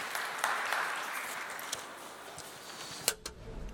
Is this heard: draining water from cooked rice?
no